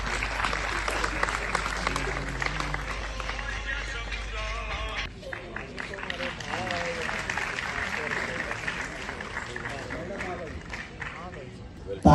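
An audience at a memorial award ceremony applauds for a long stretch, with dense sustained clapping while voices talk over it.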